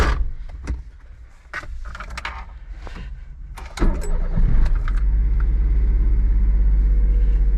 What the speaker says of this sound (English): Drop the car and start it up and we'll be done.